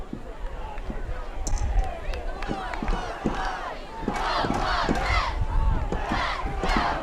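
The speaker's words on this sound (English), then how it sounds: "Good crowd on hand for this game this evening." A large outdoor crowd at a high school football game roars and cheers in waves, with shouts rising over a steady murmur, swelling louder toward the end.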